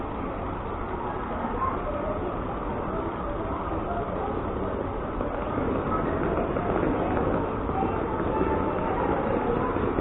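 A train departing, heard as a steady, broad rumble and rolling noise that swells slightly louder toward the end, without clear breaks.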